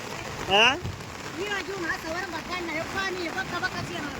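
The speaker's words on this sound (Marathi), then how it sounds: "या अशा प्रकारे पावसाचं असतं बरं का वातावरण पाऊस येतोय" Heavy rain patters steadily beside the Bhima river while someone talks over it, with a brief louder call near the start.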